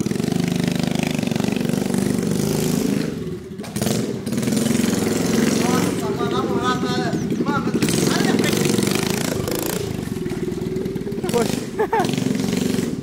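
A mini quad bike engine starts and revs hard in repeated loud bursts with brief drops between them, heard up close while people talk in Portuguese over it.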